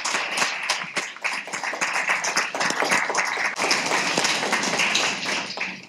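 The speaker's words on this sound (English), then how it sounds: "could we give them a round of applause for doing great?" A conference audience at PyTexas 2017 gives the organizers a round of applause: lively, fairly close clapping with distinct individual claps that stays strong for several seconds.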